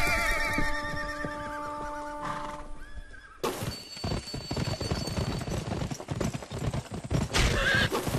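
Hooves gallop at a steady clip-clop with a loud horse neigh, all inside the Western shooter game Gun, starting over a music bed and then turning into dense, close hoofbeats.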